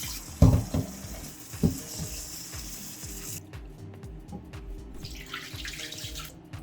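Tap water runs into a bowl as rice is rinsed by hand, a steady close rush with some clinks and sloshing, and the flow changes partway through.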